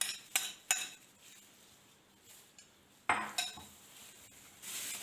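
A utensil scrapes homemade tikka masala off a cooking pot, making quiet, intermittent metallic clinks and scrapes with short gaps between.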